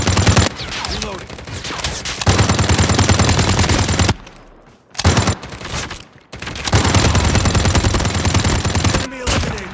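A CSS 9 SMG fires in long, loud automatic bursts during a video-game fight. The rapid shots break off into a few short pauses and then resume.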